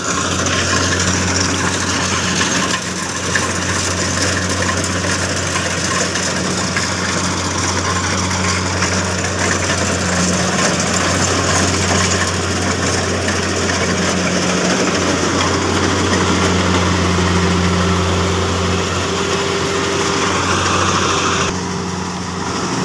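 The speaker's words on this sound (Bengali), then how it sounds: "আপনারা দেখতে পাচ্ছেন কিভাবে কাজ করতেছে ধান কাটার মেশিন।" A rice harvesting machine cutting paddy in a field, its engine droning loud and steady with a constant mechanical hum and whine that barely changes, running almost alone.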